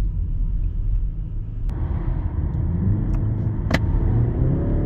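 A BMW X3 20 xDrive G45 accelerating in its boosted attack mode, a steady low engine rumble with road noise building over a few seconds, heard from inside the car with no talk.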